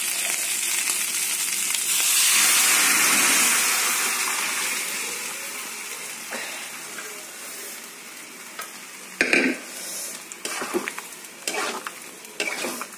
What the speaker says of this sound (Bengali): এবার এর মধ্যে ওলকপিটা ঢেলে দেবো।